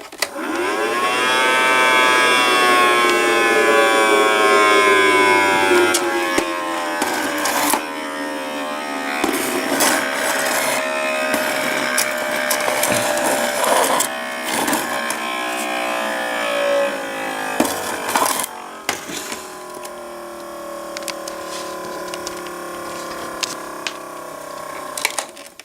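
A battery powered hand vacuum with a failing battery, its motor whining loudly and steadily, then the pitch sagging and wavering as it loses power, with occasional clicks and knocks, and no voices.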